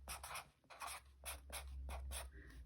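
A hand writes a word, likely with a marker or pen, in a series of quick scratchy strokes, about six short bursts with brief pauses, soft and close over a low background hum.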